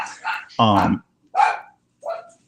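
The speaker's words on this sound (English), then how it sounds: "I've got my daughter's dog over here too, and he likes to bark" A dog barks at home in several short, close, loud yips and woofs, spaced irregularly with brief pauses between them.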